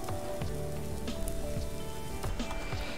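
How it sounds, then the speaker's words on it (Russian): Rain in the survival video game Subsistence patters steadily on surfaces with scattered close drops and a faint crackle, continuous and moderately quiet, with no talk. "Так, походу, дождик все-таки будет опять."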